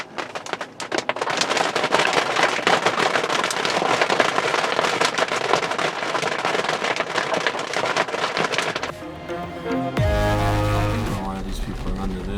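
Heavy rain pounds on the soft top of a Ford Bronco during a drive in the Outer Banks, a loud dense patter filling most of the clip before cutting to a quieter stretch with a low rumble.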